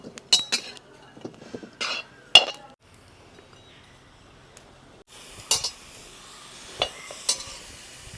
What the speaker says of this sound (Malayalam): ഒരുവിധം തൊലി വാടുന്നിടം വരെ നമുക്ക് വഴറ്റണം.